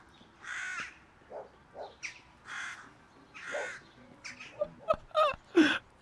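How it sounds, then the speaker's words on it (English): Crow in the video game Drug Dealer Simulator, a series of harsh caws spaced out, growing quicker and louder toward the end, with little else around. "First, I thought it was a bear. Then I thought it was a cat. And then I realized it was a bird."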